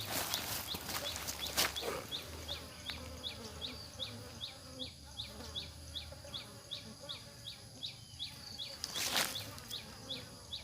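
Wild cavity-nesting bees swarm around a bait box in a durian orchard, a steady buzzing drone with rapid repeated wingbeat pulses, close and continuous, with brief louder rustles near the start and end.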